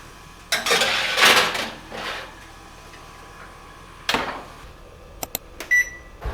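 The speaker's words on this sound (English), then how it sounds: "So now let's put the spaghetti squash in the oven." A spaghetti squash goes into an oven, with handling clatter, a door opening and closing with a thump, then beeps from the oven controls, close and with no talking.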